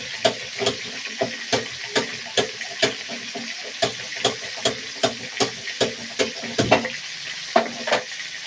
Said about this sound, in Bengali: মাছের মাথাগুলো ভেজে নিচ্ছি আগে